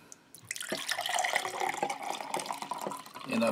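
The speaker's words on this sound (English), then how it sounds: "And I'm pouring it all out the back." Liquid from an MRE ration pack, with a lemon-lime smell, is poured out in a steady splashing stream, fairly faint and close, with no talking.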